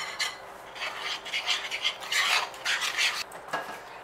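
Golden syrup being stirred into a beaten biscuit mixture in a bowl for passionfruit biscuits, a steady run of close scraping and rubbing strokes with brief pauses, no talking.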